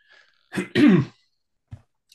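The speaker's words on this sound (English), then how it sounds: "I'm coughing today." A single harsh cough with throat clearing, close and loud, followed by a small catch of breath.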